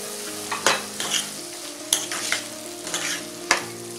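Chopped capsicum being mixed into pav bhaji in a hot pan, with a steady close sizzle under a few distinct scraping strokes and taps of the spoon against the pan.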